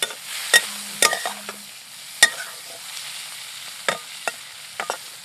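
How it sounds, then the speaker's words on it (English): A pan of cabbage, capsicum and onion being stirred and fried, with a soft sizzle underneath and sharp scraping clicks of a utensil against the pan at irregular intervals, close and alone. "stir this and cook this for a while"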